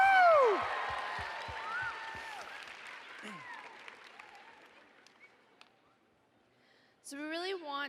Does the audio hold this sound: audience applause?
yes